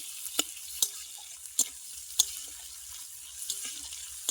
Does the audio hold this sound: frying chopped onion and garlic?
yes